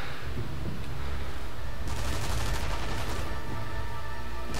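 Enemy gunfire in the video game Sniper Elite V2 forms a loud, continuous wash of shooting, with brighter bursts of shots cutting in partway through.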